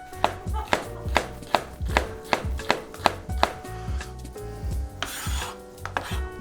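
A knife chops jalapeño peppers steadily on a cutting board, about a dozen crisp evenly spaced strikes, close and clear with no talking.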